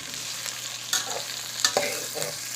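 Okra fries in hot oil for bhindi masala, a steady crackling sizzle broken by a few sharp scrapes and clacks as a spoon stirs the pan, close by with no talking.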